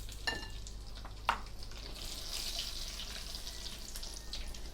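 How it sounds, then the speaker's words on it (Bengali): Cashew nuts frying in oil for a cashew salad, a faint, steady low sizzle with one or two brief clicks near the start, heard close but quiet and without any talking. "এখন আমি ওই তেলের মধ্যে ক্যাশনাট বাদামগুলো দিয়ে দিচ্ছি"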